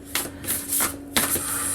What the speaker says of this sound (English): I should give these 5 shuffles.